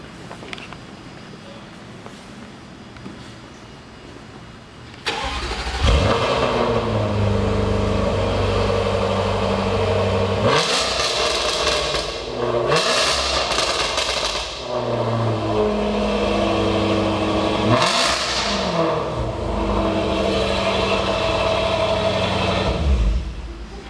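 A Jaguar XE SV Project 8's V8 starts after a quiet pause, then idles loud and close from the exhaust end, with several sharp revs rising and falling over a deep rumbling idle.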